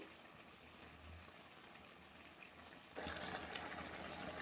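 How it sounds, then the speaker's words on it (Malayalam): Thin coconut milk poured into a simmering chicken curry with potatoes, a soft steady trickling and splashing that swells louder near the end, with no voices. "ഇനി രണ്ടാം പാൽ ഒഴിക്കുകയാണ്"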